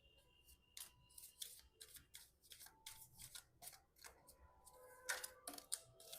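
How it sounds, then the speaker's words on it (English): Oracle cards are shuffled by hand in a quick run of soft, crisp riffling taps and flicks, close and fairly quiet, with no talking. "Now, let's shuffle for the month of June."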